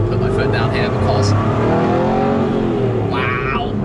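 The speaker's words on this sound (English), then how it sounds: "I do love the noise of this car." A sports car on the road with its engine revving hard under acceleration, a rising roar close up inside the cabin, steady and loud with a voice speaking over it.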